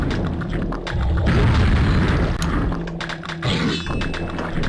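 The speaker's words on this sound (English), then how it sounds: "Should make a rocket right at that wall" Rocket explosion striking a wall in a video game, a loud low boom that swells and rumbles for a few seconds with a second thudding burst near the end, no talk.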